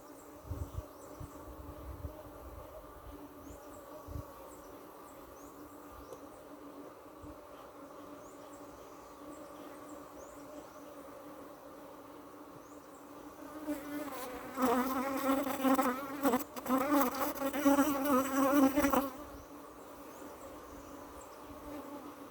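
Honey bees buzz around brood frames with wireless foundation, a steady low drone that swells louder and closer for a few seconds near the end as bees fly about.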